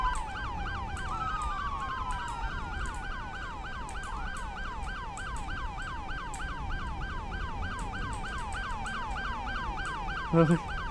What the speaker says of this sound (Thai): จะเปิดไซเรนทำไมอะ